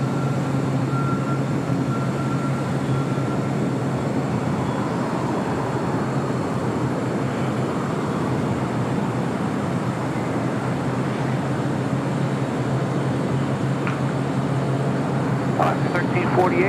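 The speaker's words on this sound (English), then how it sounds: "Next, Bravo Delta Airlines flight 504 coming up from Orlando, Florida" A Delta Airlines A321neo jet airliner roars steadily at LAX airport, a sustained broad rumble with a low hum running beneath it for the whole stretch, and brief faint clicks near the end.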